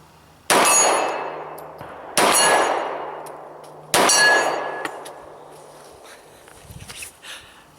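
Three loud shots from an XDM 45 compact pistol with a 3.8-inch barrel, each followed by a bright metallic ring from distant steel targets that fades over a couple of seconds; the shots are spaced evenly and there is no talking.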